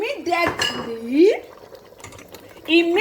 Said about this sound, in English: Make sure I give it a nice stir